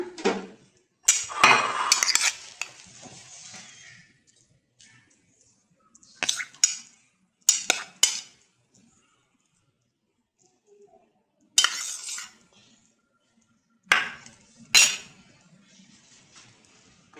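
A spoon settles apple, banana and fruit cocktail into a dish for a custard trifle, giving sharp clinks and scrapes against glass in separate bursts with quiet pauses between them.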